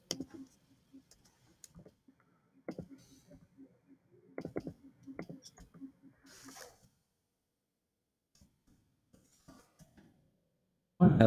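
Quiet, irregular clicks of keyboard typing in short bursts with pauses, ending with a louder thump.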